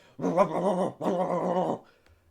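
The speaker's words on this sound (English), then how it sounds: "you start hearing loud barking all around the tower" A dog barks loudly all around a tower at night, two long, sustained harsh barks with a short gap between them, close and dominant, fading to quiet at the end.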